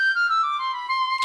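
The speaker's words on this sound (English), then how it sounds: "like this little flute here, which would sound like that." Small flute sounding a single high, pure sustained note that glides slightly downward, near and clear, lasting just over a second.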